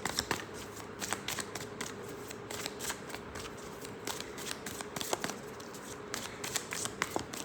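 Tarot cards are shuffled by hand at close range, a quiet, steady stream of crisp riffling and flicking snaps with no one speaking.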